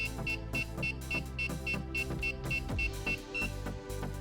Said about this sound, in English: when I flip the controller on, you're going to hear a series of beeps followed by a high-pitched one